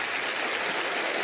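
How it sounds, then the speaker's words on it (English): An audience claps for a magician, dense steady applause filling the whole moment at even loudness with no voices on top. "Let's all give Tony one big round of applause as he takes his seat"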